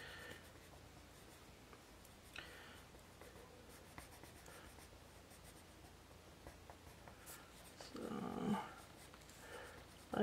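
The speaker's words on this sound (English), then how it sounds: "this is my first time using ink pens" An ink pen drawing on paper, soft faint scratchy strokes in short bursts over quiet room noise, with a brief louder rustle near the end.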